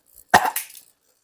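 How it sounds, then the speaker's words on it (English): A single sharp cough from a person nearby during a bicycle frame-up build on an Italian DeRosa, one brief burst followed by a softer trailing tail, with no talk. "Cough."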